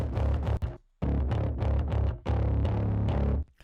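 A synth runs through a heavy distortion plugin on a hard curve setting with the drive maxed. It sounds thick, buzzy and saturated and plays in sustained chunks, with a short drop-out near the start and another before the end.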